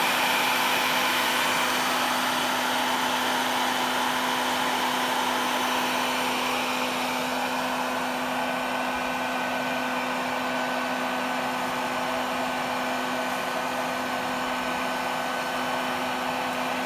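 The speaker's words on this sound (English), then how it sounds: "I'm gonna vacuum these bees up." A bee vacuum pulls honey bees from an open-air colony through a hose into a catch box, giving a loud, steady whirring drone with a constant hum that runs unbroken throughout.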